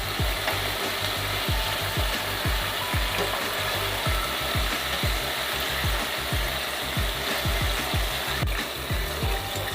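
Chicken pieces fry in hot oil with a loud, close, continuous sizzle and dense crackling. Rapid spitting pops run steadily through it with no talking.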